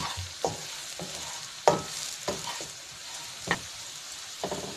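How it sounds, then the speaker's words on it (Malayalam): Mussel fry with coconut is stirred in a hot pan. Several distinct scraping strokes stand out over a soft sizzle, spaced irregularly and close by, with no voices. "ഇനി നമുക്ക് നന്നായിട്ട് ഇളക്കി കൊടുക്കുക."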